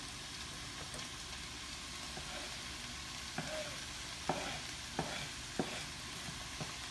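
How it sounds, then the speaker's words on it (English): Bok choy being stirred and sautéed in a pan gives a soft, steady sizzle broken by several sharp scrapes and clacks of the utensil against the pan, fairly quiet and close. "just continue to stir and saute."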